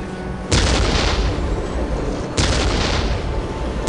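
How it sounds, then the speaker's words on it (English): Ork artillery fire in the video game Dawn of War, two heavy, sustained booming blasts about two seconds apart, loud and close, each rumbling on without a gap, with no talking. "We will silence that Orc artillery."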